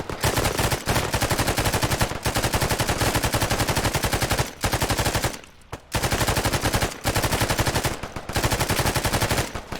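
Sustained, loud automatic weapon fire aimed at a convoy in Arma 3, nearly continuous rapid rounds broken by a few short pauses, with one longer gap midway before the shooting resumes.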